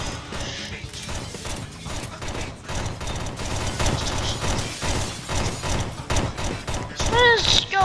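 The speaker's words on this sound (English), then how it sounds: "Shooting!" Rapid bursts of video game gunfire clatter through a busy mix of mechanical game sounds, with voices talking over the action.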